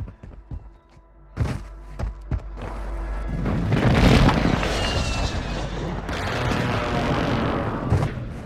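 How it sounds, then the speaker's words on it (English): Enemy precision airstrike explosions in the Warzone Mobile shooter: a few scattered thumps, then a long rumbling rolling barrage of booms building and sustaining, with a sharp hit near the end. "Enemy precision airstrike."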